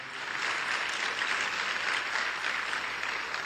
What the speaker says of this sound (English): let's give Karina another strong round of applause